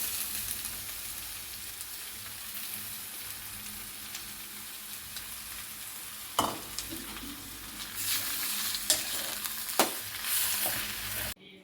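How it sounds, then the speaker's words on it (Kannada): Sambar with beans, greens, cluster beans and ridge gourd stirred in a pot, a soft continuous sizzle broken by several sharp scraping clinks of a spoon toward the end. "ಇದು ಬೀನ್ಸು, ಸೊಪ್ಪು, ಗೋರಿಕಾಯಿ, ಹೀರೆಕಾಯಿ ಎಲ್ಲ ಫುಲ್ಲು ಅದಕ್ಕೆ ಹಾಕ್ಕೊಂಡ್ಬಿಟ್ಟು ಚೆನ್ನಾಗಿ ತಿರುಗಿಸ್ಕೊಂಬಿಡೋಣ"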